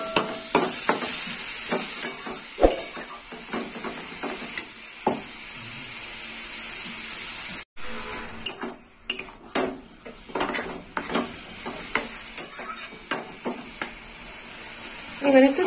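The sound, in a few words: stirring radish fry in a pan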